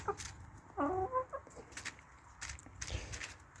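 A young rooster clucks several times close by, short throaty calls with brief pauses between them, fairly quiet overall.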